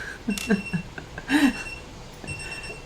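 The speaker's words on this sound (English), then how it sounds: "Let me turn off the timer for a moment." A kitchen-style work timer alarm goes off in a few short bursts of ringing, fairly close and loud, with quiet gaps between the bursts.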